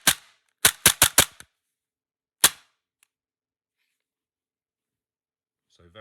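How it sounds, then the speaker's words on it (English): A Tokyo Marui Sig Sauer P226 E2 airsoft gas blowback pistol gives a quick run of sharp, crisp snaps, four close together, then a pause and one more, with near silence between them. "So operation-wise, with the pistol cocked, it's very snappy."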